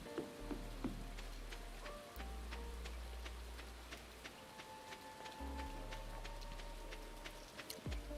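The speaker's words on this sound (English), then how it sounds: "It's raining anyway." Steady rain pattering in a farming video game, a soft continuous hiss with light ticking drops, joined by low sustained game music tones and occasional brief chimes.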